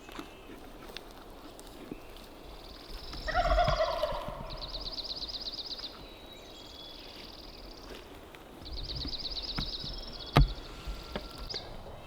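A Merriam's wild turkey gobbles twice, a distant rapid rattling call each time, heard in open country during a northwest hunt with faint rustling and footsteps nearby.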